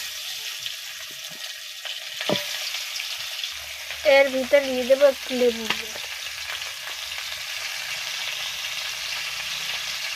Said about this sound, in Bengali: আমি ভালো করে লাল লাল করে মাংসগুলো ভাজছি।